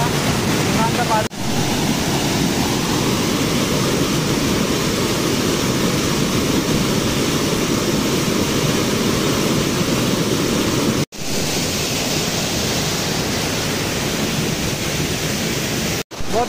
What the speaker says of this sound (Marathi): अजून तो धबधबा वाहत असतो इकडून आणि इकडून असा हा आपला हा धबधबा निवांत पाहतो.